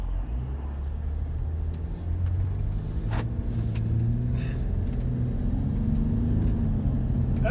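Old diesel Mercedes car driving on the road, with a steady low engine drone and rumble throughout and a few faint higher clicks and rattles.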